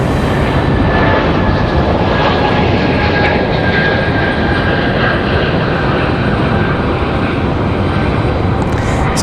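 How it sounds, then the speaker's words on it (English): A Frontier Airlines jet departs Raleigh-Durham International, its engines a loud, steady broadband roar that holds near and constant throughout. "Still a nice departure nonetheless for Frontier Airlines."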